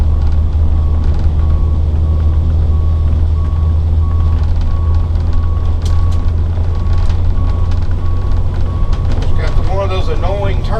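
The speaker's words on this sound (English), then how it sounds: "Signal buzzers, but hey, they serve a purpose in case you leave it on." A turn-signal buzzer beeps steadily, repeating under loud engine and road drone inside a moving 2002 Monaco Dynasty diesel motorhome with a 400 Cummins, with some clattering near the end.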